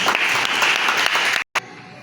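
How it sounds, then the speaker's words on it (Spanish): A church congregation applauds, a dense loud wash of many hands clapping that cuts off abruptly, then resumes briefly. "¿Cuánto le damos un aplauso al Señor?"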